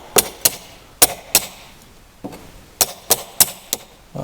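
A washer is tapped into place on a Troy-Bilt transmission during reassembly, with sharp metallic hammer taps in irregular pairs and small clusters, close and distinct over a quiet background.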